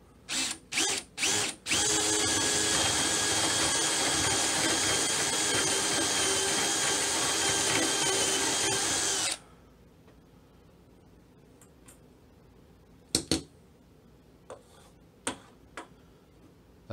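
A power drill with a Forstner bit whines loudly and steadily for several seconds while drilling wood, after a few short bursts, then stops, followed by scattered clicks and taps.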